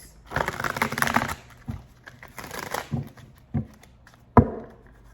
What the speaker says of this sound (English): Alright, one more shuffle here.